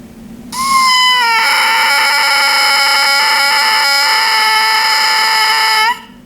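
A loud, buzzy, squawking oboe reed crow sustains for several seconds, harsh and nasal with small wavering pitch changes, played alone close up.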